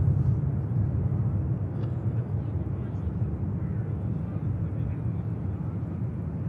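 A TUI airliner holds on the runway at Manchester Airport, giving a low, steady engine rumble heard from a distance, with faint talk beneath it.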